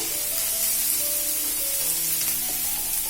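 Turmeric and tomatoes hit hot oil in a pan for murmura poha, giving a steady loud sizzle and frying hiss with light stirring scrapes throughout.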